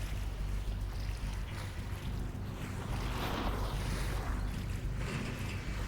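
A boat moving across water in a VR video game gives a steady broadband wash of churning water and hull noise, fairly faint and continuous throughout with no talking.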